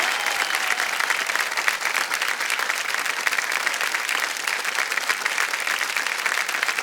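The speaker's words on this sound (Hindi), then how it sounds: "जोरदार तालियां बज जाए इनके लिए।" A studio audience at a television quiz show breaks into loud, dense applause that holds steady throughout, full and close with no talking over it.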